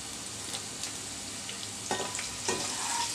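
Whole okra and mixed vegetables fry in hot oil in a pan, giving a soft steady sizzle with a few louder crackles and stirring scrapes toward the end. The sound is fairly quiet.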